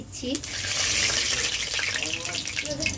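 Fennel seeds dropped into hot mustard oil in a pan for Bengali mango pickle oil, a bright sizzling hiss that swells and holds, with a voice talking faintly over it.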